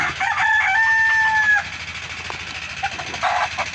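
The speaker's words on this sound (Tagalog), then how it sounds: "gutom na yung aking mga manok" A rooster crows loudly and close by, followed by softer clucking from chickens amid outdoor background noise.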